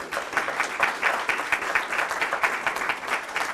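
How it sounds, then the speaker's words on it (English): A county political candidate forum audience gives a steady round of applause, a dense wash of many hands clapping in a hall, holding at even volume throughout. "Let's give all our candidates one more round of applause."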